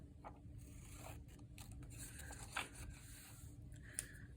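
Scissors cutting out paper ovals for a cow paper plate craft, faint soft snipping and rubbing strokes close by in a quiet room, with one or two small sharper clicks.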